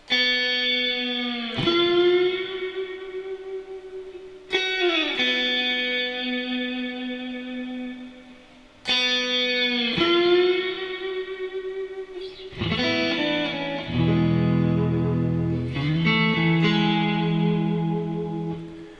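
An electric guitar plays the opening lick of a song, sustained, bending notes drenched in reverb and echo, phrases repeating with short gaps between them.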